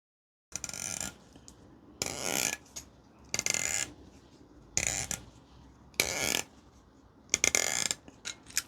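Pliers turn a servo saver onto its threads against a stiff Lee spring, making six separate bursts of grinding, ratcheting clicks with short pauses between them. The sound is close and moderately quiet, with no talking.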